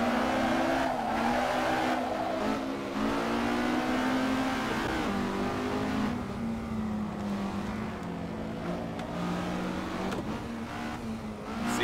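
Alfa Romeo GTA race car in the Assetto Corsa racing game, engine droning loudly and continuously with shifting pitch as it accelerates and lifts, with tyre squeal mixed in.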